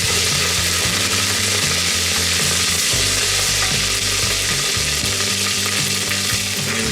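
Green chili frying in hot oil with ginger garlic paste for dal tadka, a loud, dense sizzle with rhythmic scraping and clattering of a spoon in the pan, no voices.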